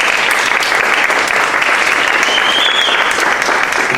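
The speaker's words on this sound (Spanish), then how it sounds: "Él es Alberto Sánchez, un fuerte aplauso." Loud, dense applause from an audience at a baroque music awards ceremony, a continuous roar of many clapping hands that holds steady from start to finish.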